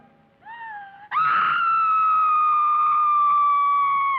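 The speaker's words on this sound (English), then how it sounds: "I thought I heard you scream" A high, drawn-out scream from an animated lion series. It rises sharply, then holds loud and piercing for about three seconds, alone, with no talk over it.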